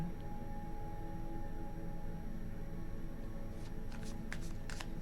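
Quiet, soft riffling of tarot cards being shuffled in several short bursts near the end, over a faint steady background hum.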